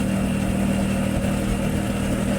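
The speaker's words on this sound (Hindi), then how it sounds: "गाड़ी मेरी ख़राब है, आवाज़ कर रही है, ज़्यादा ही आवाज़ कर रही है।" A faulty motorcycle engine drones steadily and loudly while riding, with a constant mid-pitched hum and rough rattling texture that holds without breaks.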